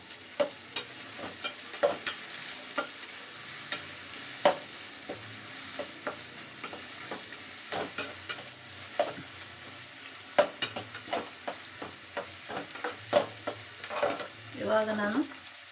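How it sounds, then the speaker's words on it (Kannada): Chopped onions sizzle in hot oil while a spoon stirs and scrapes the pan with irregular clicks, for an Uttara Karnataka brinjal palle, steady frying hiss throughout with a louder burst of sizzling near the end. "ಉಳ್ಳಾಗಡ್ಡಿ ಸ್ವಲ್ಪ ಕೆಂಪಾಗೋ ತನಕ ಹುರ್ಕೋಬೇಕು"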